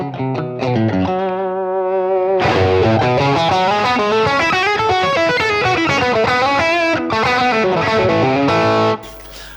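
A 1970s Stratocaster fitted with EMG pickups plays sustained seventh chords through distortion and effects, loud and continuous with shifting harmonics and a sharp cutoff near the end, no voices.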